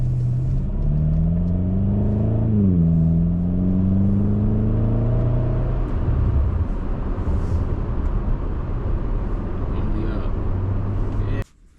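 A 2010 BMW X6M drives along with a steady engine drone and low road rumble, its pitch rising and dipping through gear changes early on before settling into an even cruise, loud and close throughout.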